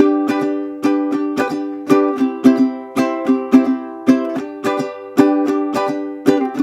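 A ukulele strumming chords briskly at full speed in a steady repeating rhythm, bright chords ringing out clearly with quick down and up strokes, no voices.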